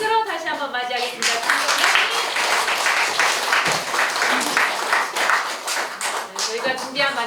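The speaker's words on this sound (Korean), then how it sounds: "여러분들 큰 박수로 다시 한번 맞이하겠습니다." Audience applause fills a concert hall during a humanities and arts concert, as a tenor is welcomed back for the last song of the first half. The clapping is dense and steady, with a few voices over it at the start and the end.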